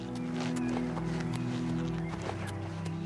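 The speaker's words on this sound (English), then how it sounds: "You still up here, paint horse?" A paint horse in Oblivion Remastered clip-clops with soft, scattered hoofbeats under a steady bed of game music and ambience.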